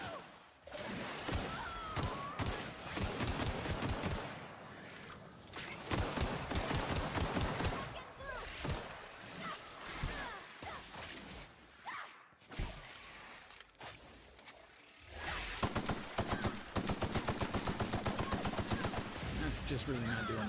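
Sustained gunfire in the video game The Outer Worlds, rapid automatic bursts and single shots stacked densely throughout, with a brief lull near the middle before heavy firing resumes, over game effects and intermittent talk.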